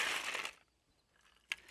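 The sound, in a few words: ice cubes added to a cocktail glass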